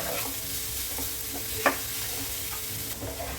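Roti dough is mixed by hand with chopped leeks and salt, producing a faint, steady squishing and rustling with one small sharp tap partway through.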